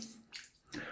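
A brief splash of water poured in two quick bursts, close by and soft.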